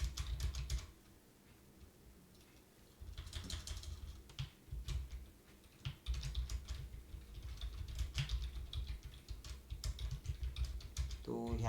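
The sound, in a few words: typing on a computer keyboard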